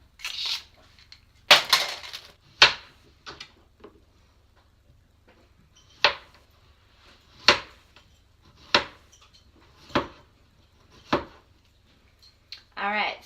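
Kitchen knife slicing vegetables into strips on a cutting board for ratatouille: about a dozen crisp separate chops at an uneven, unhurried rhythm, close and clear, with quiet gaps between.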